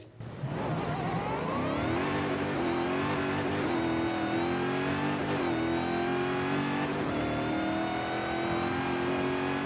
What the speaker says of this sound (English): let's go ahead and take a listen to the wonderful engine of this thing.